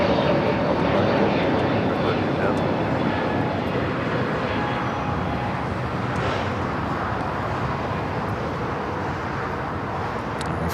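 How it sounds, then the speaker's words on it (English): A China Eastern Boeing 777-300ER being pushed back at LAX, a steady loud engine and ground-equipment roar holding constant throughout, with a voice speaking over it. "Finally got that China Eastern 777 at 300 ER heading back to Shanghai, now pushing it back."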